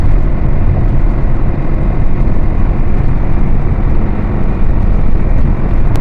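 Loud, continuous rush of a vehicle cruising fast on a highway in Saudi Arabia, steady engine and wind roar heard from inside, with no voices.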